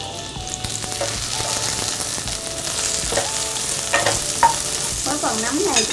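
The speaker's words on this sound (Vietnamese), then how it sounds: "một ít dầu vô trong này để mình tiếp tục mà áp chảo nấm đông cô" Dried shiitake mushrooms sautéing in oil in a pan, a continuous close sizzle broken by stirring clinks and scrapes, with no talking.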